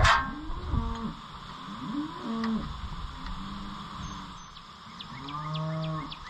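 A cow moos in several long, drawn-out calls, some close and loud, over a steady background hum on a farm where an Oliver 1365 tractor's hydraulics are being repaired.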